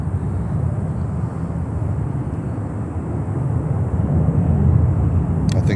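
A Boeing 737 airliner at Miami airport roars steadily and loudly, a continuous broad engine rumble that swells slightly toward the end, with no talk over it.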